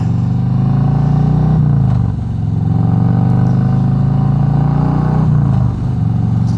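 A 2018 Harley-Davidson Road Glide Special fitted with Tab Performance mufflers pulls uphill in third gear around 3,000 rpm, its deep, steady exhaust drone loud and continuous with a brief dip during a shift.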